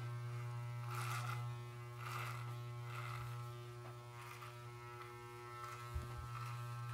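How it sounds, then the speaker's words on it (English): Electric hair clippers fitted with a 2 guard trimming a beard, a steady close buzzing hum with slight swells as the blades move through the hair, no talking. "So I'm using a 2 guard on my hair clippers."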